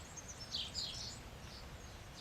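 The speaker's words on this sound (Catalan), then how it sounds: "els altres sorolls que sentiu, les campanes, els ocells" Birds chirping softly in the background of a quiet guided meditation with bells, several short, high tweets scattered over a faint, steady ambience.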